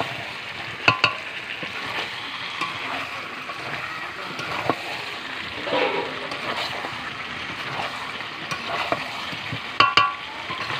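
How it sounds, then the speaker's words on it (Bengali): Chicken and potatoes being stir-fried in a pan over a clay stove: a continuous close sizzle with scraping stirs and occasional sharp clinks from the utensil. "এবার ভালো করে আলুর সাথেও একটু কষিয়ে নেব।"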